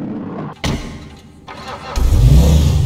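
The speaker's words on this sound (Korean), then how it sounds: "다음에는 이 차량의 배기음을 들어볼게요" Ocelot Jackal car in a video game, its engine cranking with a couple of thumps before firing into a loud, deep exhaust rumble that holds steady near the listener.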